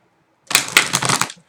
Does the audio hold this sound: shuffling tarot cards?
yes